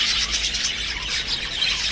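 Dense, continuous bird chirping from many birds at once, a busy high twittering chorus with no pauses.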